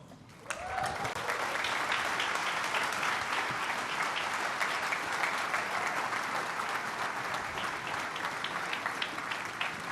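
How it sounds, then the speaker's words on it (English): Sustained audience applause fills a conference hall after an entrepreneurship talk, a dense, steady wash of clapping that begins abruptly and holds at an even level throughout, with no voices over it. "Don't stop clapping."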